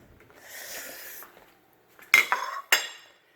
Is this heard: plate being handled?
yes